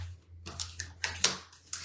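Oracle cards being shuffled by hand: a quiet run of crisp papery riffles and snaps in several short bursts, close to the microphone and with no talking.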